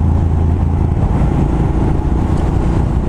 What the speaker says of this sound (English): 10-year-old bike running like new.